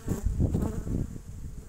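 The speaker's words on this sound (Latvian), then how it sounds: "to bišu krietni vairāk ir" Honeybees from a weak colony hum densely and close up at the hive, a continuous buzzing drone over a couple of seconds.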